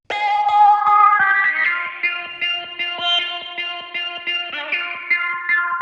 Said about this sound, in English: I then put in a drop, which sounds like this.